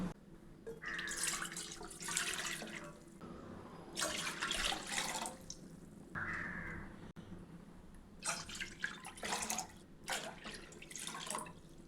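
Water poured in several separate bursts, splashing into a cooking pot of sago with brief pauses between, loud and close, with a crow cawing faintly outside.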